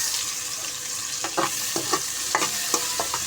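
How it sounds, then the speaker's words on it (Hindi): Onion, tomato and green chilli fry together in a pan, a steady close sizzle punctuated by a string of spoon stirs and taps, with no voices. "अब इसको भी हल्का सा हम इसी के साथ फ्राई कर लेंगे, प्याज के साथ।"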